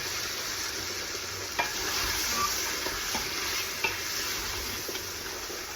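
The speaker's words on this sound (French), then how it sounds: "Et je laisse mijoter le tout." Onion mixture simmering in a pan gives a steady, close sizzle and hiss with a few soft clinks of stirring, and no one talks.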